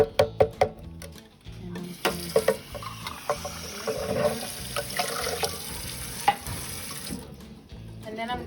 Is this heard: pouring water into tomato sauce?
yes